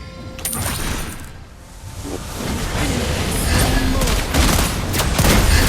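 Lesley's gunfire in Mobile Legends: Bang Bang: dense, rapid bursts of game gunshots and impacts over a busy battle mix, loud and continuous.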